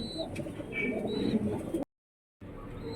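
Pigeon cooing nearby, a sick pet bird once egg-bound, with soft repeated coos and a few chirps over a steady background murmur, briefly cut off by a gap of silence before resuming.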